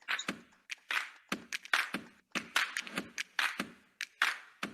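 A small audience at a team success celebration claps in scattered, uneven bursts. The sharp hand claps come in an irregular rhythm, fairly close and moderately loud.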